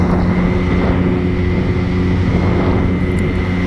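A moped engine held at full throttle on a dual carriageway gives a steady, loud, buzzing drone mixed with rushing wind, unbroken throughout.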